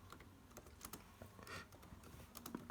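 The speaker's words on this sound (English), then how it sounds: "you type the message you want" Fingers type a message on a computer keyboard, a steady run of light, quick, close key clicks with uneven rhythm and no voices.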